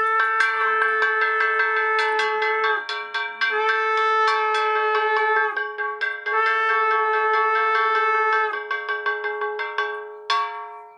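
A small metal hand bell rung steadily during a Satyanarayan puja, with fast, continuous clanging strokes that run for several seconds with brief breaks. The ringing is loud and close and heard alone, with no voices.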